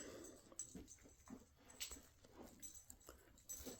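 A dog whimpers softly in a room, with a few short, faint whines and yips scattered over low background noise.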